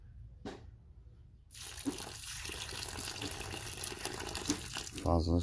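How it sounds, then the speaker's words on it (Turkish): Excess aquarium water being poured out, a steady broadband rush of liquid splashing down that runs through most of the stretch, with brief handling noises and a short voice near the end. "Fazla suyu şuraya boşalttım."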